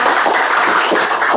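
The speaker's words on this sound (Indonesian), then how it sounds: "Tepuk tangan untuk kita semua." An audience in a teaching session or classroom breaks into loud, dense applause, a continuous wash of clapping with no gaps throughout.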